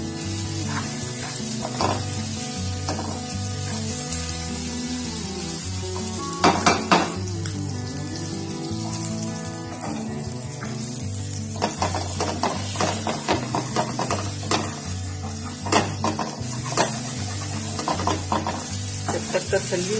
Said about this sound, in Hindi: जब तक तसल्ली नहीं हो जाए कि पूरा अंडा पक गया है, हल्का हल्का सा चम्मच चलाते रहें